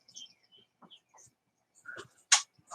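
A blind bird gives short, scattered chirps and calls close by, faint at first and ending in one sharper, louder note.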